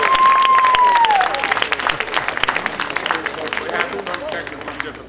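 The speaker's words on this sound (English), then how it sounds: "applause for Rich." Audience applause at a concert in New York, a loud burst of clapping and cheering from a crowd that tapers off, with a tonal squeal at the start and voices murmuring underneath.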